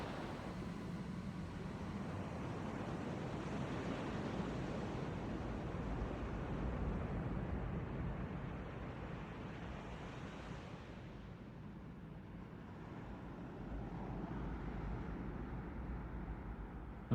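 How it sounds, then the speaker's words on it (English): Wind and water effects in a song, a steady broad wash like surf and gusting wind that holds loud for most of the stretch, then eases slightly and continues without voices. "Wind and water."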